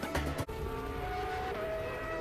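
Michael Schumacher's Formula 1 car at the 1994 Hungarian Grand Prix heard from onboard, its engine holding a loud, steady high-pitched whine as the car cruises after a brief dip in sound.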